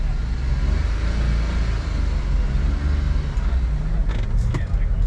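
A Suzuki Carry kei truck drives through New York with a low, steady engine drone and road rumble, close and continuous, with faint traffic sounds rising briefly near the end.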